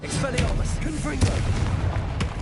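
A Confringo blast spell from Hogwarts Legacy, heard as booming bursts and pops that cut through steady combat noise, with voices in the mix.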